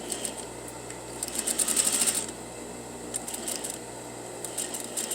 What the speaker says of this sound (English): I'm going to sew a 1/4 seam. I'm going to back tack.